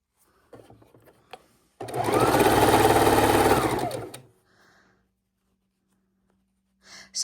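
Sewing machine stitching Christmas quilt pieces, a short steady burst of fast whirring needle sound of about two and a half seconds, framed by faint handling clicks and near-silence.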